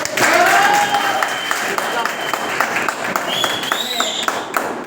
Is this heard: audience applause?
yes